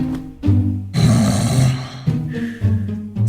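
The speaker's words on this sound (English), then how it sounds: "Tired of snoring ruining your nights?" Loud, close snoring from a sleeping person, several rough rattling breaths in a steady rhythm with brief pauses between them, heard alone with no talk.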